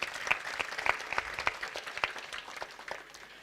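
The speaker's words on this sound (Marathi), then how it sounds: "एकदा सर्वांनी महिला मंडळासाठी टाळी वाजवावी" An audience at a Hindu religious gathering for a Shiv Mahapuran and Ram katha claps for the women's group, giving steady, moderately loud applause with crisp individual claps standing out.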